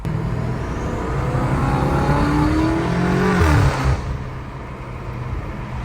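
A BMW M5 with a new full exhaust and downpipes revs hard nearby, its deep engine note climbing and falling through a loud throttle blip, heard alone without talk.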